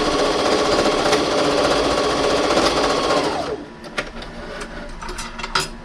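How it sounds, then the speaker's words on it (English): A sewing machine runs a steady, rapid stitch across the bottom of a cloth face mask, then stops and gives way to a few quieter clicks and handling sounds. "And then I'm going to sew across the bottom."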